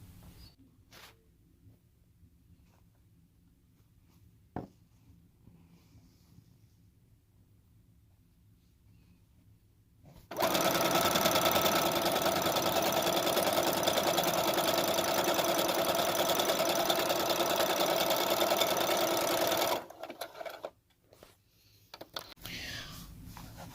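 A sewing machine stitches across a small dollhouse mattress: a steady, close mechanical whir lasting about ten seconds, set between quiet stretches with faint handling noises.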